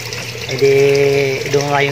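Tap water runs steadily into a fishpond. A voice-like tonal sound rises over the flow partway through.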